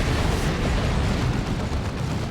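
Constant rumbling explosions and booming blasts from exploding heretics and Plague Marines in Warhammer 40,000: Dawn of War 2 pile on top of each other, loud and unbroken throughout.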